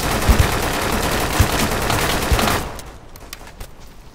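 A Scorpion firing in the video game Deadside lets off rapid automatic bursts, with a few sharp thumps standing out, then fades to quieter scattered shots.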